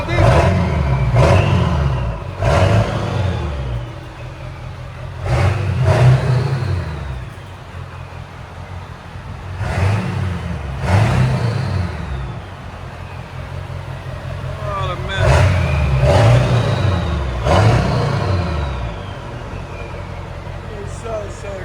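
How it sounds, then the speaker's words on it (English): A 1997 Ford F-350 XLT 7.3L turbo diesel with straight pipes and an 8-inch tip revs in a series of loud, close bursts that rise and fall repeatedly, with people talking between them. "Definitely sounds like a diesel."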